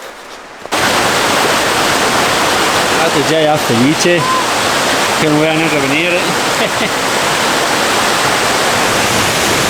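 A spring waterfall in Val Zemola, swollen with meltwater, roars in a constant loud rush close by, with someone speaking briefly over it.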